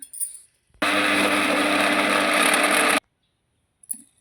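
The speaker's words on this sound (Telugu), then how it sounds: "ఇప్పుడు మళ్ళీ గ్రైండ్ చేసుకుందాం" A mixer grinder whirs through tamarind chutney in one loud, steady burst of about two seconds, then stops abruptly and leaves near silence.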